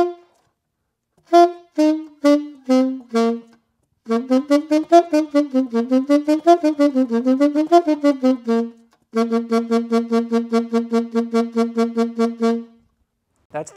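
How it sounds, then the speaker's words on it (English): An alto saxophone plays short, detached staccato notes in clear phrases: a few spaced notes, then a fast run rising and falling, then a steady repeated pattern, close and alone. "That's the sound of staccato."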